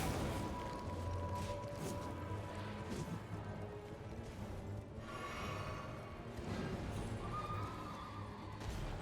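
A horse in Elden Ring whinnies loudly over clattering hooves, with crashes and whooshing combat sounds layered throughout.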